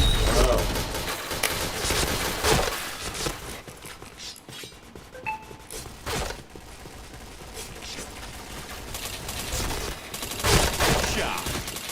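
Rapid bursts of gunfire in the shooter game PointBlank, loud dense volleys and single cracks repeating throughout, with a game announcer voice calling out over the shooting.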